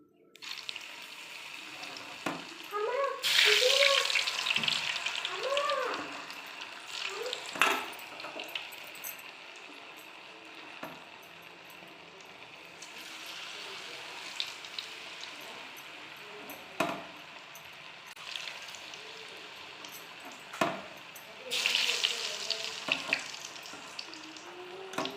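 Potato kebabs dropped one by one into hot oil, with bursts of sizzling frying and occasional clinks of utensils, moderately quiet, separated by calmer bubbling stretches.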